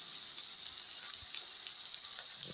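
Onions and garlic with green chillies frying in a pan for a mushroom curry, a steady bright sizzle with a few small pops and crackles throughout, no voices.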